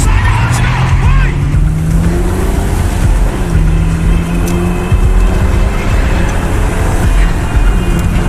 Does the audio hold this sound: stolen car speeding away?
yes